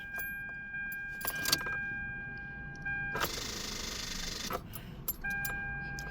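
Car keys jangle loudly in a long metallic burst as they are pulled from the ignition, with short key clinks before and after and steady interior warning chime tones.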